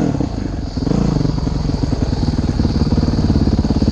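Modded 2011 Honda CRF 450X dirt bike engine on a trail ride, loud and close, a rough throbbing putter that rises slightly as it pulls along in second gear.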